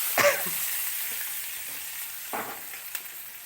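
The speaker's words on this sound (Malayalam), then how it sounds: "കറിവേപ്പിലയും ഇട്ടതിന് ശേഷം നമുക്കൊന്ന് നന്നായിട്ട് ഇളക്കി കൊടുക്കാം" Beef roast with chili powder and curry leaves is stirred in a pan: a low steady frying hiss with a couple of brief scraping stirs, one at the start and one near the end.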